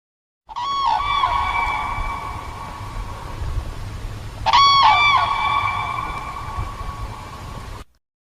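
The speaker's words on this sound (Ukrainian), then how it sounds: "Журавель." Two loud, harmonic trumpeting calls from a crane ring out several seconds apart over a steady background hiss.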